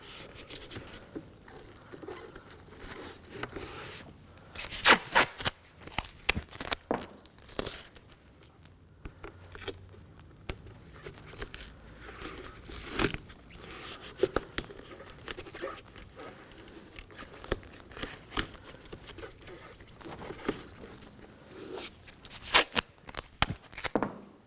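Tape peeled and torn from a roll while covering the mirror glass of a 2016-2020 Kia Sorento, irregular ripping and crinkling bursts with sharp snaps, close up and no talking.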